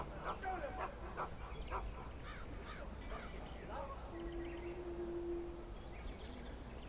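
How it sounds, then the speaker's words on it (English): A Mabari war hound barks in the fantasy video game Dragon Age: Origins, with a burst of yips and barks early on, then a steady droning tone with faint background game ambience. "I fear your hound has the kitchens in uproar once again"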